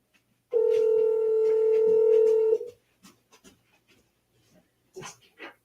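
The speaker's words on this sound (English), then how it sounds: "I got another phone ringing." A single long electronic phone ring tone sounds for about two seconds, followed by faint scattered clicks and brief noises.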